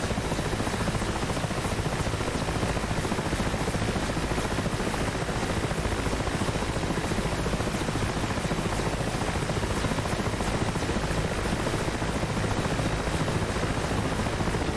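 A Mi-8 helicopter lifts off in a snowstorm, its engine and rotor making a loud, steady, dense roar that holds unbroken from start to finish with no voices over it.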